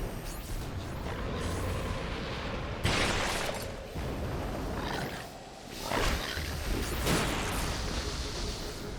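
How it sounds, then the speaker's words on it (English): Halo 2 game audio with a loud rumbling blast roar, several sharp bursts layered over dense continuous battle noise, close and full throughout. "the explosion from hitting that actually was what killed me."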